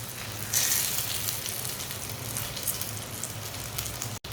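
A breakfast flatbread fries on a hot pan with a loud, continuous rain-like crackle, a brief brighter burst as it is turned early on, and a sharp cut near the end.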